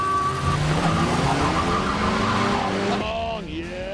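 A 1.5-litre diesel car and a 3.9-litre V8 MG race each other, with engines droning and rising tones climbing steadily. A sharp pitch drop and tyre noise near the end suggest a car passing close by.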